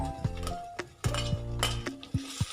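Brinjal pieces fry in a little oil for rava vangi bath as a metal spoon stirs the pan, with clinking knocks against the rim over a faint, low sizzle, close and without speech.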